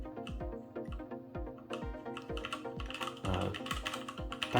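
Keys clacking in a steady, quick rhythm on a Keychron K6 keyboard fitted with tactile brown switches, close and alone, with a denser flurry of strokes toward the end.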